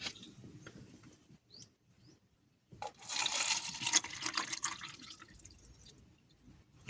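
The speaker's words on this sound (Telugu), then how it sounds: "ఇందులో వాటర్ పోసాను," Water is poured into a glass in a short, bright trickling gush, preceded by faint scattered drips and small clinks in a quiet room.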